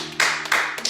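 A church congregation claps in praise of the Lord during a service, with two loud hand claps a short moment apart close by.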